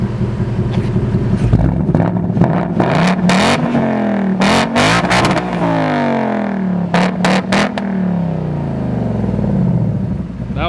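A 2019 Mustang GT's V8 with active exhaust in track mode revs hard again and again, each blip climbing to a loud roar and falling back, close and raw over a steady idle rumble.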